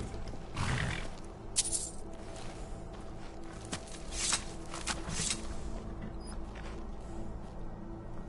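A horse in the video game Skyrim snorts and whinnies amid soft shuffling hoofsteps, with scattered bursts of noise over a low steady game background, fairly quiet overall.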